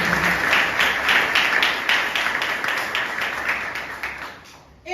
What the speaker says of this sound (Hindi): तो जोरदार तालियां खुदा के लिए